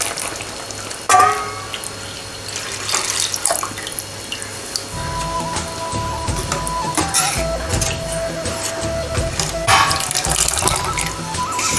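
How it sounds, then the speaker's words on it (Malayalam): Second coconut milk poured into simmering semiya payasam for Onam: a steady liquid pour and splash into the pot, loud and close, with stirring clinks, no talk. "രണ്ടാം പാൽ ഒഴിക്കാം"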